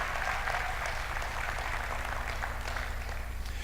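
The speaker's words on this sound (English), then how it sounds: "let's give them a round of applause in order to welcome them" A church congregation claps steadily and evenly in warm welcome as women come up onto the stage, a dense, continuous applause held at the same level throughout with no voices on top.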